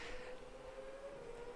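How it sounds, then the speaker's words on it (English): A pit lane traffic siren in the Automobilista racing game, during an Australian Supercars sprint race at Western, holds one steady, sustained tone throughout under low background noise, with no talking. "I hear the pit lane traffic sirens going off in the background"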